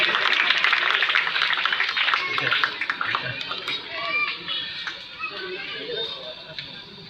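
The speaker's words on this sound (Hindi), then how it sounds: "हम लोग ताली बजाते रहेंगे" An audience claps at a village ceremony, a ribbon-cutting for a model haat in Motipur panchayat, with dense, fairly loud applause that thins and fades under background chatter.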